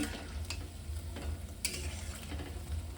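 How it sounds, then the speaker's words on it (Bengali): Lentil fritters (bora) fry in hot oil while being turned, a quiet continuous sizzle broken by a few sharp scraping clicks of the spoon against the pan. "বড়াগুলো এইভাবে নেড়ে নেড়ে ভালো করে ভেজে নেবেন"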